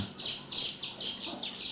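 Newly hatched chick peeping in a series of high, repeated chirps with a steady rhythm, close and fairly quiet, with no talking.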